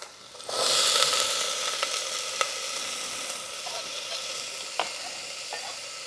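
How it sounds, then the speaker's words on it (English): Chopped onion hits smoking-hot oil for a homemade tomato soup, bursting into a loud, steady sizzle that keeps hissing close up throughout, with a few faint utensil taps. "my oil is hot because I see it smoking. So let's start putting our onion in here."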